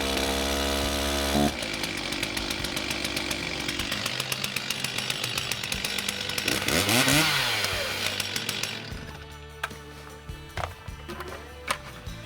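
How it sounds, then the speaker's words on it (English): A chainsaw runs with its throttle slightly pushed in, so the chain spins from the start. It gives a loud, close, steady buzzing drone, briefly revs up and falls back midway, then settles into a lower idle with sharp knocks and clicks, and no talk. "if you start your chainsaw, the throttle is pushed in a little bit and the chain would start spinning quickly"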